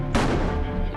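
A single sharp gunshot cracks close and loud, aimed at an incoming RPG, and its echo trails off over the next second.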